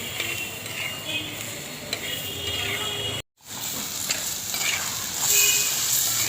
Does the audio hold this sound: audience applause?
no